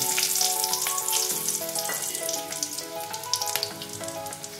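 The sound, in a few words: whole green cardamom frying in hot oil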